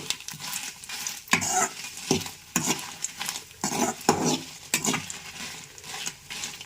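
Dry red chillies go into hot oil as a tempering for a raw mango and grated coconut chutney, crackling and sizzling in bursts while a spoon stirs and scrapes the pan, close and fairly loud, no voices.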